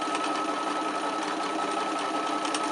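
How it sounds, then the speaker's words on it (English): A sewing machine satin stitches a circular appliqué on a quilt block made from two 10-inch squares, with a steady, continuous close-up whir and no pauses. "the machine has made an absolutely perfect satin stitched circle with just 2 10-inch squares"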